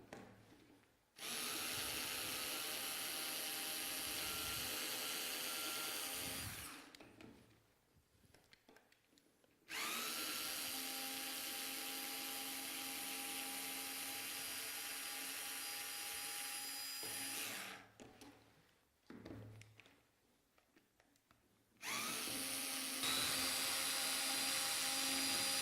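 A power driver runs in three long bursts with short pauses between them as it backs screws out of a door lock, a steady loud whirring motor each time.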